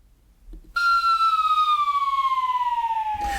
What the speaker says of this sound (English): My brain was wiped by a siren.